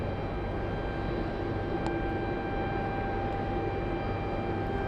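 A Delta Boeing 767-400 airliner arriving from Madrid lands on runway 31 right at JFK airport, a steady, distant engine roar with a faint hum holding level throughout and no voices.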